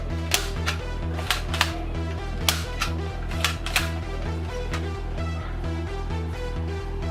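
Toy military gun firing, a rapid, machine-like repeating rattle with a steady electronic tone underneath and periodic sharper clicks, loud and close, continuing throughout without speech.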